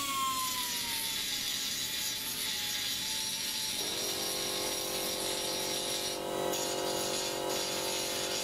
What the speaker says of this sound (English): I've only just discovered these die grinders. I wish I'd had one years ago.